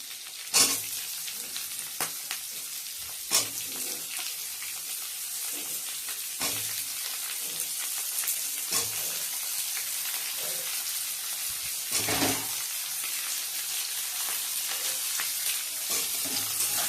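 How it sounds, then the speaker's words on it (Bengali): Potatoes frying in oil in a pan, a continuous bright sizzle with occasional louder crackles and spatula scrapes, close and steady for the whole stretch, with no voices. "আলুটা একটু ভাজবো ভেজে ওইগুলো সব তুলে দেবো"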